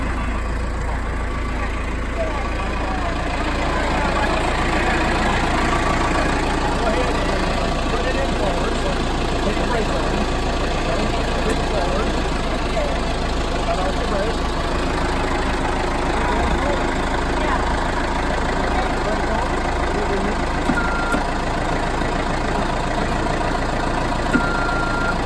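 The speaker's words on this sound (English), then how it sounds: "instructions on how to drive the forklift" A forklift's engine idles steadily at an off-grid cabin build site, a continuous low drone running throughout, with people talking over it.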